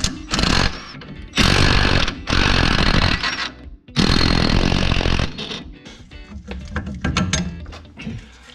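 Power tool working a front strut bolt on a Porsche Cayenne 958: loud close bursts of impact hammering in several separate runs, with pauses between, then lighter ratcheting and clatter.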